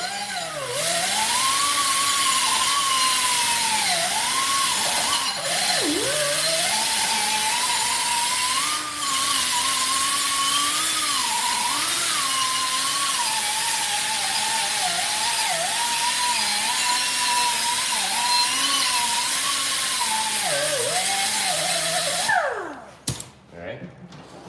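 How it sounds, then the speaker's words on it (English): A power wire wheel scrubs rust off a wheel hub during a brake pad and rotor job, making a loud, continuous close whine whose pitch dips and wavers under load before it cuts off near the end. "Wire wheel."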